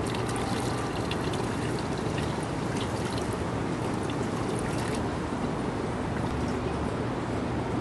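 Rust water draining out of a motorcycle gas tank, a constant loud splashing, trickling flow that stays close and steady the whole time.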